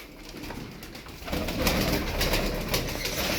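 Several pigeons cooing in a loft of breeding stock, a dense overlapping murmur of coos that grows louder partway through, nearby and steady, with no talk.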